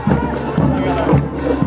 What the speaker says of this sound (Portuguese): Aí aplauso para o desfile